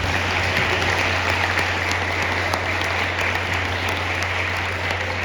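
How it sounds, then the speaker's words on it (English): Crowd applause from a large gathering at an outdoor charity sleep-out, a dense, steady wash of clapping that holds evenly for several seconds with no voices over it. "I think you deserve a huge round of applause."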